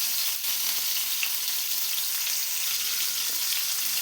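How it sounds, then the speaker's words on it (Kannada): Drumsticks (moringa pods) frying with salt in hot oil in a pan, a steady, dense sizzle that holds evenly throughout with no talk. "ನುಗ್ಗೆಕಾಯಿ ಸಾಫ್ಟ್ ಆಗೋ ತನಕ ಫ್ರೈ ಮಾಡ್ಕೊಳ್ಳಿ"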